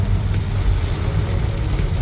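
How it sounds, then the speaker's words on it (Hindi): Heavy rain pours steadily alongside a low rumble of cars passing on a nearby road, a dense continuous wash with no talking. "बारिश इतनी तेज़ हो रही है यार, गाड़ियाँ जा रही हैं"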